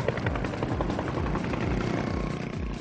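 A police helicopter over Karachi gives a steady, loud rotor thrum with a rhythmic low chop throughout.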